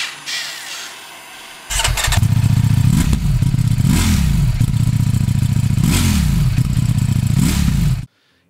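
A Ducati Streetfighter V4S motorcycle engine fires up after a brief quiet moment, then settles into a loud, close, steady run with several rising revs before cutting off abruptly.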